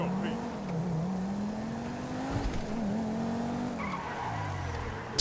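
In GTA 5, an Obey Nine R, the game's version of the Audi R8 V10, drives along with a steady, moderately loud engine drone that rises and falls as it shifts, while someone talks over it.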